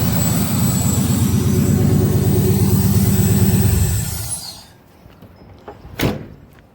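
A 350 TPI car engine idles roughly with a stumbling, missing rhythm, close and steady for about four seconds before cutting off, followed by quiet and a sharp thud like a door.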